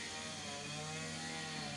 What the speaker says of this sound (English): with a lawnmower over there on the road too